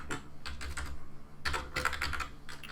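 Typing on a computer keyboard, with quick bursts of close keystrokes separated by short pauses and a steady low hum underneath.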